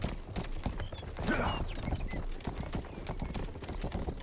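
Horses gallop in the Rustler video game: a continuous rapid clip-clop of hooves, loud and close throughout, with a brief whooshing burst near the start.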